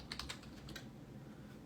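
Quick run of about six soft clicks from a computer keyboard being typed on, faint and close, followed by quiet.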